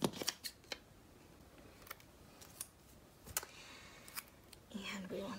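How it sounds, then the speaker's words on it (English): Scissors cutting out a paper heart checklist, heard as quiet, sharp snips and clicks spaced irregularly, with soft paper rustle at the end. "I'm going to actually cut another one of these heart checklists"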